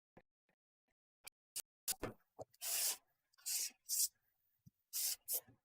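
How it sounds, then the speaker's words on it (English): Fine sandpaper rubbed along metal edges to knock off burrs, heard as a series of short scratchy strokes, some quick single swipes and several longer rasping passes, close and fairly quiet with pauses between. "I'm not sanding these as much as I'm just removing the burrs"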